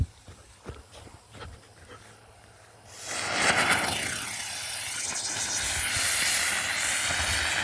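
A firework helicopter carrying a jumbo ground bloom fires up outdoors: quiet background with a few sharp pops, then a sudden loud, sustained hissing roar with whistling tones that holds steady to the end.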